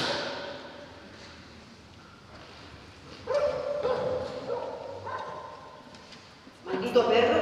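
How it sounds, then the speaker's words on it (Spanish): A dog barking at night somewhere off in the distance, a few faint yips and barks rising briefly under voices and room tone, with a louder burst near the end. "Maldito perro."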